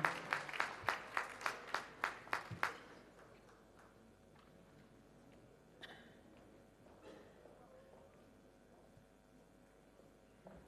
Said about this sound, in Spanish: con este aplauso recibe su reconocimiento en esta mañana